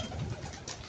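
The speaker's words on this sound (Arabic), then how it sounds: "طير جعان كمان" A pigeon gives a short, soft, low coo close by, heard on its own without talk.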